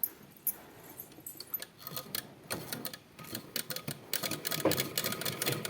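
A pedal-operated sewing machine stitches kerchief edges with quiet, uneven bursts of rapid mechanical ticking and clatter that grow denser and louder toward the end.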